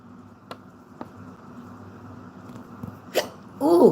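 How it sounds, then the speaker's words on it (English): Several short hiccups, separate and quiet at first, then louder near the end, with no talking. "stop the hiccups"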